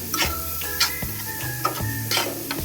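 Ginger garlic paste fries in a pan with a soft sizzle, broken by several sharp clinks and scrapes of a spoon stirring at uneven intervals, close and fairly quiet.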